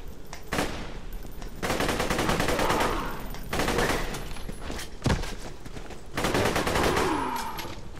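Assault rifle fire in Borderlands 2 comes as rapid bursts of close, loud shots separated by short pauses, with no talk over them.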